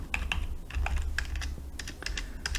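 Rapid keystrokes on a computer keyboard as a cheque number is entered, a steady run of close, crisp clicks in uneven bursts, no voices.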